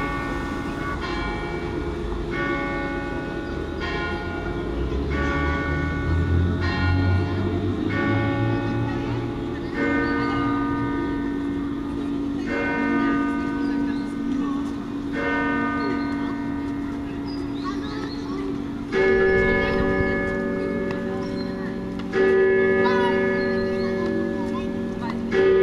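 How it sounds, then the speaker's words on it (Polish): Church bells of Speyer Cathedral ring in a long, overlapping peal, nine tuned bells sounding in changing patterns, loud and resonant throughout. "Ale posłuchajmy dzwonów."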